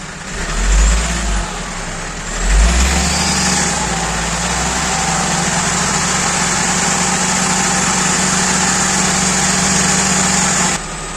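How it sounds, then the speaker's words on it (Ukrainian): A 2007 Toyota Corolla Verso 2.2 diesel engine revs up twice with quick throttle bursts, then holds a steady raised hum near 2000 rpm with a whine on top until it cuts off near the end. "Зараз збільшимо обороти двигуна до 2000 оборотів"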